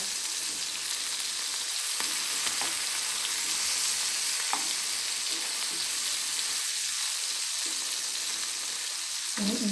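Steady crackling sizzle of fish frying in hot oil, continuous throughout, with a few brief clinks and stirring sounds on top.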